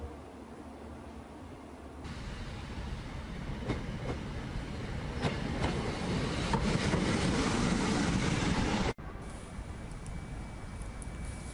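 Rail carriage noise fills the clip during a long train ride, a steady rumbling roar with faint rhythmic clicks from the track, briefly cut by a sharp break near the end.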